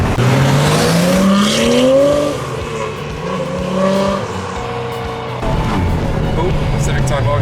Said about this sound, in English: Oh, Civic Type R going past.